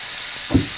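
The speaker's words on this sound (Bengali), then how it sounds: "আমাদের তেলটা গরম হয়ে গিয়েছে তো এখন যেটা দিব দুটা আস্ত রসুন দিব" Whole garlic cloves dropped into hot oil, giving a steady broadband hiss with a brief louder burst of sizzle midway, no talking.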